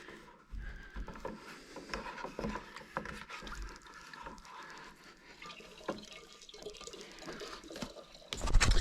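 Red wine siphoned through a hose from a homemade batch, with close trickling and dripping liquid, small splashes and handling knocks, building to a louder gush near the end.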